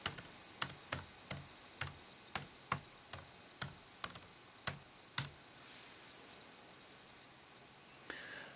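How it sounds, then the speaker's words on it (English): Typing on an Acer C720P Chromebook keyboard: a run of about a dozen crisp, evenly paced key clicks close to the mic, then quiet room hiss with a faint click near the end. "But if you do want to type, you're going to have to use your keyboard."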